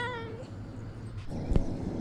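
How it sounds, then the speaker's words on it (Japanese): A cat meows, seemingly hungry, in a homestay: a short, tonal, rising-and-falling meow up close, followed by softer rustling noise and a brief sharp thump. "この猫はお腹が減ったよと伝えているように思いました。"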